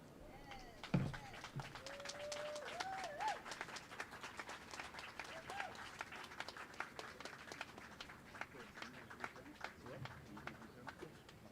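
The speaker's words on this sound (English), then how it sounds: "Let's give another round of applause" Audience clapping after a reading of Frederick Douglass's speech, moderate applause with scattered sharp claps and some murmuring voices and cheers mixed in, fairly steady for several seconds.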